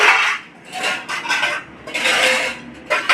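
Metal dishes and pots clatter and clink in several separate bursts as they are carried indoors, with brief quieter gaps between the rattling.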